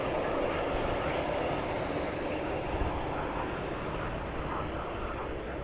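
Steady, loud broadband jet roar from airplanes arriving at Dallas Love Field at night, a continuous engine rumble with no breaks and no voices.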